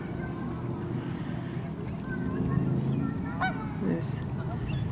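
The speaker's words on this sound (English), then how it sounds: "All the seagulls and ducks and geese are flying around." Geese honking among gulls and ducks flying over the shore of Oneida Lake at sunset on a late October day, a few calls rising over steady wind and distant background chatter of tourists.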